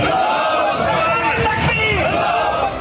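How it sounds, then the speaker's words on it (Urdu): Sui Southern Gas Company employees, suddenly dismissed from their jobs, protest outdoors, a crowd chanting slogans together in a dense, steady roar of voices that stays loud throughout. "احتجاج کرتے اور نعرے لگاتے یہ سوئی سدرن گیس کمپنی کے وہ ملازم ہیں جنہیں اچانک نوکریوں سے برطرف کیا گیا"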